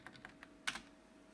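A password is typed on a computer keyboard: a few soft, quick keystrokes followed by one sharper, louder key press, faint and close, with no talking.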